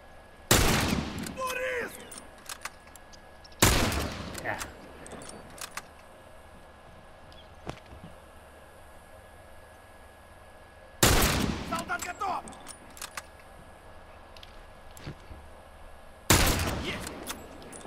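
Gunfire in The Last of Us multiplayer, four sharp loud bursts spaced several seconds apart with a low ambient bed and faint clicks between them.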